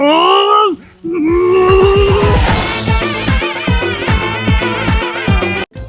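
A cow moos loudly and close by, a long low call, followed by a rapid series of clattering knocks.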